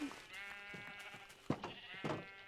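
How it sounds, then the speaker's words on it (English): Sheep in a survival video game let out a few wavering bleats at low volume, one after another, with no talk over them. "We're gonna shear up these sheep"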